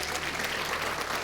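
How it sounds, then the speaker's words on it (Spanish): A church congregation claps for God in a loud, dense burst of applause that lasts the whole moment, with crowd noise under it. "dale un aplauso a Dios"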